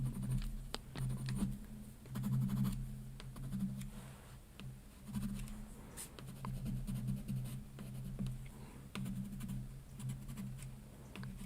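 Pencil strokes scratch steadily across paper during a drawing and painting session, a close, soft, continuous rasping with frequent short strokes and no talking.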